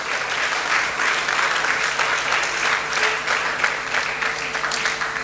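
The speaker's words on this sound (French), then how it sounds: "Sous vos applaudissements." Steady, full audience applause at a women's forum in Kinshasa, a dense even wash of clapping from a large crowd with no talking, holding at constant loudness throughout.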